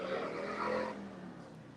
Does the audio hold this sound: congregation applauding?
no